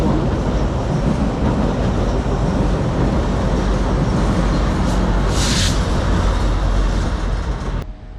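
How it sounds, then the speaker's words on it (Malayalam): A boat train rolls past in a waterside park with a loud, continuous rumble close by, its roar holding steady before cutting off abruptly at the end. "ബോട്ട് ട്രെയിനാണ് ഈ പോകുന്നത്."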